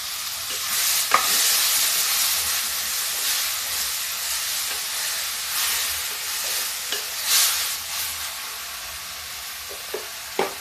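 Onions frying in a pan for tinda (round gourd) curry, a steady close sizzle and hiss running throughout with a few soft stirring scrapes and taps, no voices.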